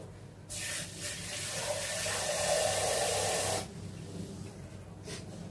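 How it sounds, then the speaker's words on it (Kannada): Water pours into a cooking pot in a steady rushing stream for about three seconds, then stops, leaving a quiet room. "ನಾನು ಇನ್ನೊಂದು ಸ್ವಲ್ಪ ನೀರು ಹಾಕೋತೀನಿ ಇದಕ್ಕೆ"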